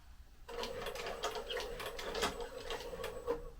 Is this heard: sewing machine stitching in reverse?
yes